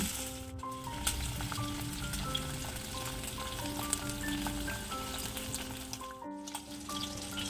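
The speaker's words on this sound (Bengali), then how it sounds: "এবারে কড়াইতে পরিমাণ মতন সরষের তেল দিয়ে দিচ্ছি মাছগুলোকে ভাজার জন্য।" Tangra fish fry in hot mustard oil in a pan, giving a soft, steady sizzle and crackle throughout, faint beneath background music, with no talking.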